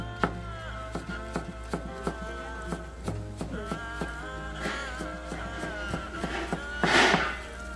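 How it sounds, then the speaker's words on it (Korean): A knife chops onion into small pieces on a cutting board in a steady run of close, crisp taps, with a louder scrape near the end. "양파도 똑같이 길쭉하게 썰어서 작은 크기로 잘라주면 되세요."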